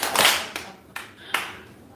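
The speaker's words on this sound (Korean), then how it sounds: "박수 3번 시작." A church audience clapping in unison at a lecture, three sharp claps spaced evenly and decaying in a reverberant room, with no talking.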